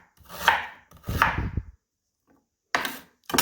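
Knife chopping beets and ginger on a cutting board: a few sharp, close knife strikes in quick pairs separated by brief silences, with no talking.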